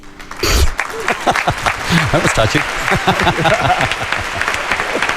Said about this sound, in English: Nice applause track.